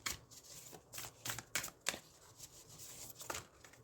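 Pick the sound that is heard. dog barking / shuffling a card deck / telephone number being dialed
shuffling a card deck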